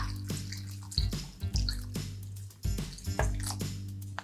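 Brine poured into a container of cucumber water kimchi, giving uneven splashing and dripping liquid sounds in several bursts, close and fairly quiet, with no talking.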